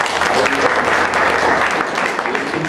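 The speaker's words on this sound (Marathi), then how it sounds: "त्याच्यासाठी मोठ्या टाळ्या, खूप खूप टाळ्या." An audience at a harmonium concert claps in dense, sustained applause, loud and close, continuing evenly for a few seconds.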